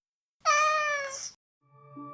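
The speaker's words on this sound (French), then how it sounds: "Un chat multicolore avec de belles taches noires et oranges s'est jeté sur mon bureau et me regardait." A cat meows twice close by, a long clear tonal meow followed after a short pause by a softer, lower one.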